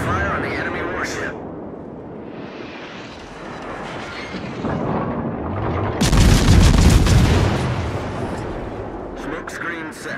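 Warship guns fire in World of Warships naval combat: a rumbling battle bed with distant booms builds to a heavy, loud volley of explosions midway, then eases off. A voice is partly heard over the action.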